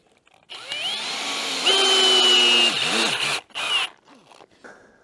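Cordless screw gun driving screws into a low-budget sheet-metal roof frame, a motor whine that rises in pitch, holds steady, then dips and stops with brief bursts, loud and close with no talk.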